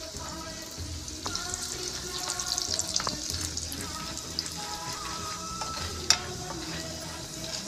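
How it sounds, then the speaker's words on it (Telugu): Chana dal fries in a pan with salt and asafoetida, giving a soft, steady sizzle with occasional light scraping and stirring clicks close by, and no talking. "శనగపప్పు మంచిగా వేగాలండి."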